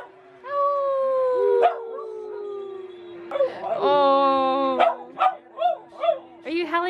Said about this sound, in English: Are you howling with your pack?